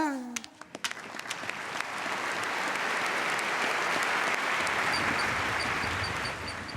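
After a brief tonal sound, a crowd breaks into steady applause that builds quickly and continues loudly to the end.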